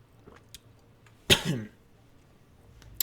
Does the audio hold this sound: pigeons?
no